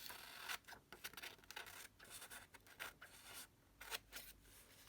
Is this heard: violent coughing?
no